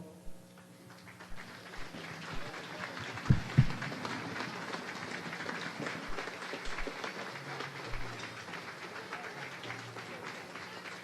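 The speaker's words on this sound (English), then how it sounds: "we'd like to present Lieutenant Malone right now with the lei and give him a round of applause" A round of applause for Lieutenant Malone at an outdoor Hawaii Air National Guard building dedication luau: a soft, continuous patter of clapping from a crowd, with a few louder claps and thumps near the start.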